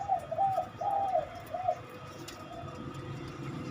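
Several low, hollow coos from a zebra dove in a rhythmic phrase, fairly close, then fading into quiet outdoor background noise.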